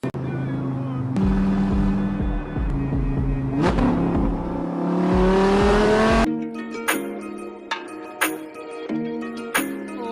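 A car revs up and pulls away, the engine rising then cutting off, under music and brief talk.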